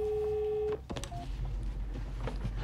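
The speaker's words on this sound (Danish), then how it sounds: "Det ringer." An emergency call centre telephone gives off a steady electronic ring tone for under a second, then cuts out and leaves a low background hum and faint rustling.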